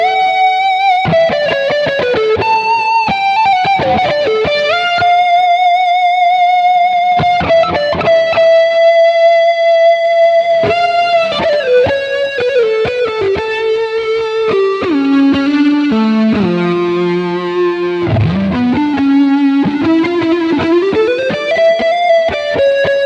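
An electric guitar plays a sustained, thick lead line through a Quad Cortex with several stacked effects and chorus, bending and sliding between long singing notes, loud and continuous with no talking.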